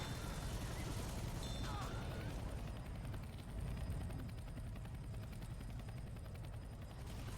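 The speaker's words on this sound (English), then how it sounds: "all 4 survivors will make it to the helicopter and into safety" Continuous thudding rotor of a rescue helicopter in the zombie shooter game Left 4 Dead, loud and steady throughout, with game effects and a commentator talking over it.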